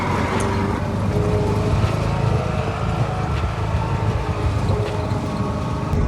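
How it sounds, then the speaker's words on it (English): A car drives in toward a guest house amid green surroundings near Kep, its engine and road rumble a steady, close drone throughout with no talking. "This is us now driving in where our guest house is going to be."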